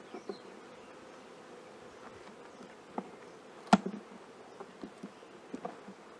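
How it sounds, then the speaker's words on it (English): Steady low buzzing of a crowd of honey bees being shaken from frames into a hive box, with a few soft knocks and bumps, one sharper clack partway through. "we know if she's in this box, we're shaking the bees down."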